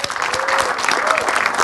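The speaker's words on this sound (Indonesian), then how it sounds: "Tepuk tangan buat beliau." Steady applause from a crowd, a dense patter of many hands clapping at even loudness throughout, with faint voices mixed in.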